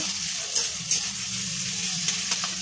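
Slit green chillies sizzle with onions in a frying pan, giving a steady, close hiss of frying with a few faint stirring clicks.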